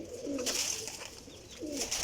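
Two short, soft cooing phrases from a Teddy pigeon, near and quiet, separated by a brief pause, with faint high twittering from other birds in the background.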